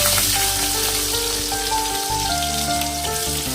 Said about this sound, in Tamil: நல்லா வெங்காயம் பொன்னிறமாக சேர்க்குற அளவுக்கு நல்லா வதக்கணும்